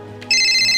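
A telephone ringtone starts abruptly and rings loud and close, a bright sustained electronic tone following a brief faint chirp, with no talking over it.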